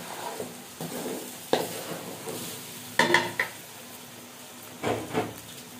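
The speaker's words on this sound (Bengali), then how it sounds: "ভালোভাবে একটু চালটা ভেজে নেব" Rice frying in a biryani pot, a soft steady sizzle broken by several clanking scrapes and knocks of a spoon stirring against the metal pot, close and fairly quiet, no talking.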